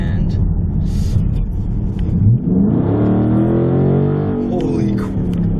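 A 2019 Dodge Charger Scat Pack pulls hard, its engine note climbing in rising harmonic sweeps from a low rumble as it accelerates, with cabin noise and an occupant's voice over the top.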